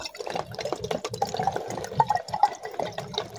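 Water bottle pushed down into water, giving a close run of gurgling, bubbling splashes with uneven glugs and no talk over it.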